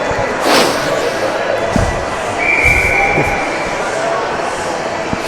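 A referee's whistle at a hockey game sounds one sustained shrill blast over the murmur of the arena crowd, with thuds and a commentator's voice around it.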